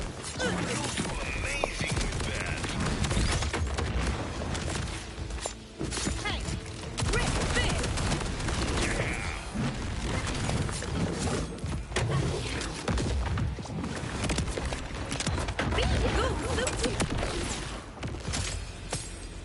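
Explosions and rapid gunfire rattle nonstop in the video game Borderlands 4, dense overlapping blasts, crashes and thuds with a voice talking over the chaos throughout.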